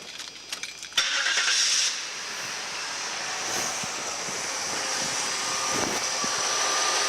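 A car engine starting after servicing: a few clicks, a sharp crank and catch, then a steady idle that runs on, moderately close, with no talk.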